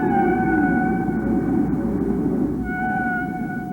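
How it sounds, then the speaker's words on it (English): Long, drawn-out humpback whale song tones sweep and hold over a low rumble, echoing underwater with a deep, reverberant wash. "you can hear the songs of humpback whales reverberating in the water."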